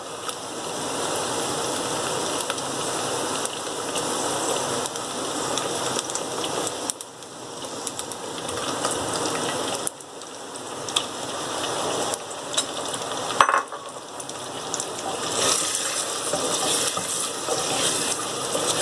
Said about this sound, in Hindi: ये देखिए मैं इसमें बीफ डाल रही हूँ।